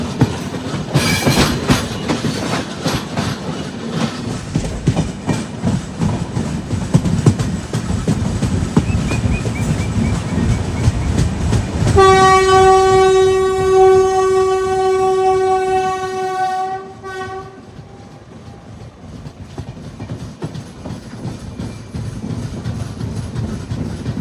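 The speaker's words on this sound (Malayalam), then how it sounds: "ഈ പോകുന്നത് നമ്മുടെ കോവൈ എക്സ്പ്രസ് ആണ്, ചെന്നൈയിൽ നിന്ന് കോയമ്പത്തൂർ പോകുന്നത്" The Kovai Express from Chennai to Coimbatore, hauled by a WP4 locomotive, rumbles past close by with rhythmic wheel clatter, then sounds a loud sustained horn for several seconds before the noise trails off.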